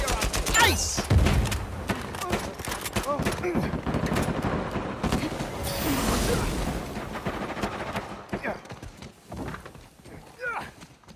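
Gunfire in a competitive video game match: dense, continuous bursts of shots and booms that keep overlapping, with raised voices mixed in.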